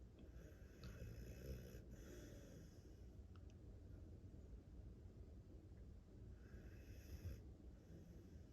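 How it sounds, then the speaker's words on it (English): A sleeping dog snores softly and steadily, close by, in a quiet room with low raspy breaths continuing throughout. "He's back to quietly snoring."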